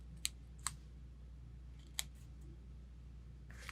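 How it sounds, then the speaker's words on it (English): Scissors snip a paper card panel in a quiet room: three crisp, isolated cuts early on, then a softer fourth near the end, close and clear over a faint low hum. "this time we're going to put a little banner cut on this end of it"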